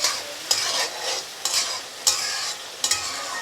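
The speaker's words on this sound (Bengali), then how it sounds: "এখন আমি এটা কষিয়ে নেব।" Spices and ingredients are sautéed (koshano) in oil, a sizzling hiss punctuated by four or five sharp scrapes of a spoon stirring against the pan, close and steady.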